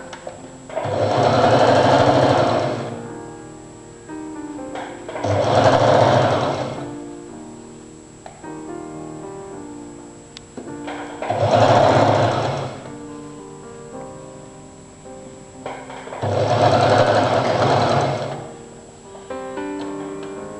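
Sewing machine stitching around the neckline of a front-open Chinese collar jacket, four sustained whirring runs of a few seconds each with quiet gaps between, close and steady, no talking.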